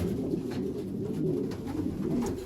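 Breeding pigeons coo in a loft, low, throaty, rolling calls overlapping in a steady rhythmic murmur close by.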